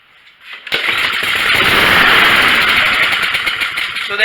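Briggs and Stratton lawn mower engine firing on ether, catching after a brief crank and roaring loud and close for several seconds with a rough, buzzing note before the run fades slightly.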